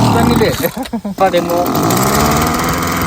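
An engine-driven crop spray pump out in a field starts up into a loud, buzzing small-engine roar, broken briefly by a man's speech before it runs steadily.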